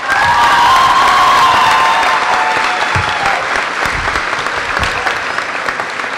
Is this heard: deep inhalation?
no